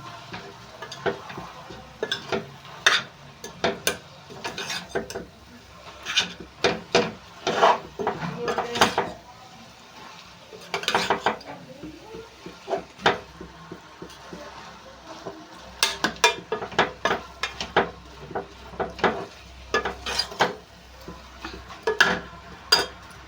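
Tamarind leaves being stirred and fried in oil with salt and chilli, a utensil scraping and tapping the pan in irregular bursts of clatter with a soft background sizzle.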